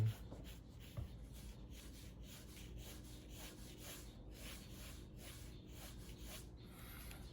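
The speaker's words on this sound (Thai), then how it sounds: "เขียนส่วนโค้งด้านซ้ายและด้านขวา ด้านบนและด้านล่าง" Pencil drawing curved arcs on paper, a soft continuous scratchy rubbing with rhythmic strokes repeating steadily throughout, close and quiet.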